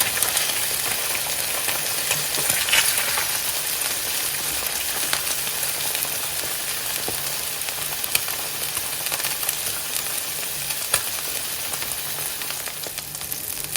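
An egg fries in a pan for a Thai crushed-egg dish, giving a steady, dense sizzle throughout with a few faint clicks of utensils, close and continuous without speech.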